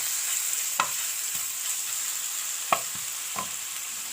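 Garlic is stirred in a sizzling pan for sautéed vegetables, with a constant hiss of frying and three or four sharp scrapes of a utensil against the pan at irregular intervals.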